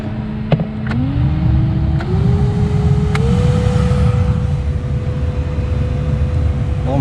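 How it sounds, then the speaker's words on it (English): A Honda Civic radiator cooling fan runs steadily on a low setting, giving a constant hum whose pitch steps up a few times before holding level, with a few faint clicks near the start. "That's the fan on the outside if you hear it, but wow, even low setting blows pretty good."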